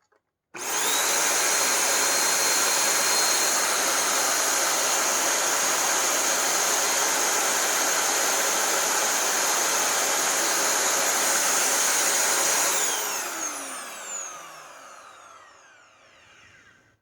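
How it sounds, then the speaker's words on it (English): Motor of a repaired Shark Powered Lift-Away Deluxe vacuum cleaner running on test, spinning up abruptly to a loud, steady whining roar that holds for about twelve seconds before winding down with a falling pitch. "All right, let's test the motor. It's going to be a little goofy and probably a little loud."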